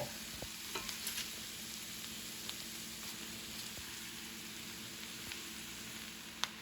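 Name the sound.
cabbage frying in bacon grease and butter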